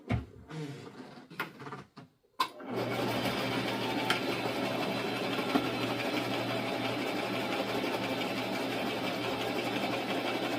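A sewing machine stitches fabric for a sheath dress: after a few clicks and handling noises it starts up and runs at a steady, fast, whirring hum, close and continuous for the rest.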